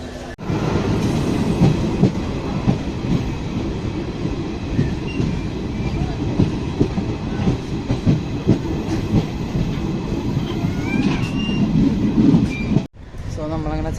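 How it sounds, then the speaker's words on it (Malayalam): A train rumbles steadily into a railway station in Assam with rhythmic clattering of wheels on rails, loud and close, with faint squeals near the end. "പറമുക്ക് റെയിൽവേ സ്റ്റേഷനിൽ എത്തിയിട്ടുണ്ട്"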